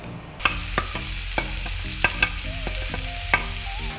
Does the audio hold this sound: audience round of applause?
no